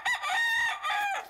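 A rooster crows in a radio advertisement, one loud, close cock-a-doodle-doo call with a rising start and long drawn-out end, heard alone without talk.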